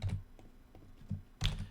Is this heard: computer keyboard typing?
yes